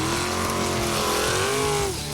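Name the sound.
off-road vehicle revving stuck in sand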